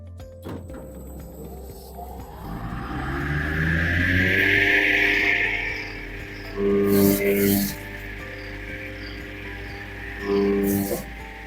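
An STvega Belt Cutter industrial vegetable slicer cuts lemons into 2 mm slices, a motor winding up into a steady whirring, scraping run with a few louder bursts, close and continuous.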